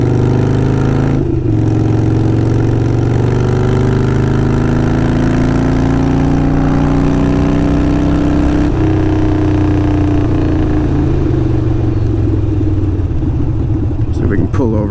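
A Harley-Davidson Sportster 48 with Kinetic 540 lateral exhausts idles with a loud, deep lumpy rumble, rising in pitch through a blip of revs before settling again, close and continuous with voices over it.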